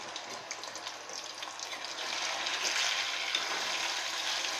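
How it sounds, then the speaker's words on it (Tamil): Chicken 65 fries in a little oil with a steady, close hiss and sizzle that grows slightly louder partway through, with no talk. "கொஞ்சம் கொஞ்சமாக போட்டு பொறிச்சு எடுத்துடலாம்."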